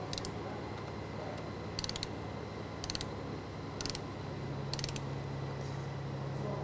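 A ratchet wrench tightens 12 mm front engine mount bolts on a Honda chassis, torqued to spec, giving four short bursts of rapid clicking spaced about a second apart over a steady low workshop hum.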